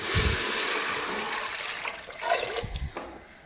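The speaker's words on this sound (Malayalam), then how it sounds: "ഇതിൻ്റെ ഇത്രയും കൂടി വെള്ളം എടുത്തിട്ട് നമ്മൾ ഈ മൂത്ത് വന്ന ഈ കുക്കറിലേക്ക് ഒഴിച്ചു കൊടുക്കാം" Water is poured from a vessel into a hot pressure cooker for ghee rice, a close gushing splash that settles into trickling and small sloshes, with no talking.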